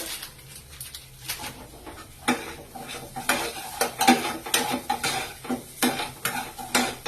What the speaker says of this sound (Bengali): দিয়ে ভালোভাবে গ্রেভিটাকে কষাতে হবে।